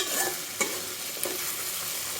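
Mixed vegetables lightly fried in oil tempered with panch phoron make a close, steady sizzle and hiss, with a couple of brief stirring scrapes.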